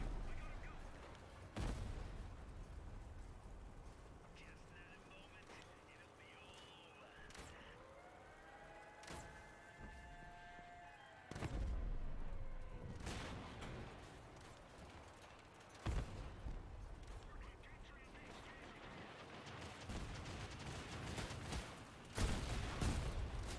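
Video game gunfire in a fight against a tough enemy, heavy booming shots and blasts arriving in irregular bursts between quieter stretches, with sirens and whining effects layered underneath.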